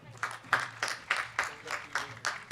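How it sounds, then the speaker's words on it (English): A graduation audience applauds during an undergraduate commencement ceremony, with fairly faint, evenly spaced bursts of clapping that recur steadily, and no voices stand out. "Nice cheering section."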